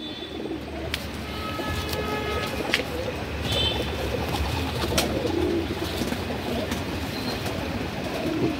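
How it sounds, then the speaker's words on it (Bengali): Old-generation domestic pigeons coo in soft, low repeated calls close by, with faint chirps and a steady background hum. "পুরনো জেনারেশনের পায়রা, খুব সুন্দর সুন্দর পায়রা আছে।"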